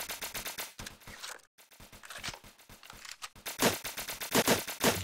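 Rapid gunfire from the Hex video game, bursts of quick sharp shots in a tight rhythm, briefly pausing and then returning louder and denser toward the end.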